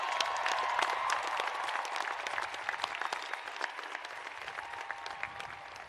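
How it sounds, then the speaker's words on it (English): A large university commencement audience applauds, a dense, moderately distant wash of clapping with a few cheers that slowly thins out over several seconds. "Do you want to cheer him again?"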